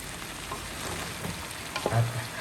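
Noodles with vegetables and celery are stir-fried in a pan, a steady close sizzle with soft stirring scrapes and a brief clunk near the end.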